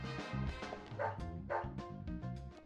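A dog in the video game Deadly Premonition barks in a quick run of several yips and woofs, close and fairly loud, with short gaps between the bursts.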